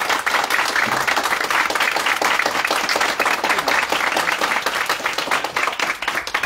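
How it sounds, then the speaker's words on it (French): An audience applauds in a dense, sustained burst of many hands clapping, loud and steady from start to finish, with faint voices mixed underneath. "applaudit courage, applaudit volonté, applaudit conviction"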